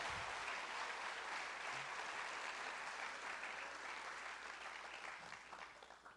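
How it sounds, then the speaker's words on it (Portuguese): Church congregation applauding for Jesus during a sermon, a broad continuous patter of many hands heard faintly, steady for several seconds before thinning slightly toward the end. "dá uma salva de palmas para esse Jesus"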